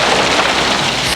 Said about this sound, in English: And lightning storms that paralyzed air travel.